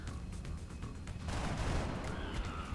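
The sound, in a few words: soldier gunfire from a video game (XCOM Long War)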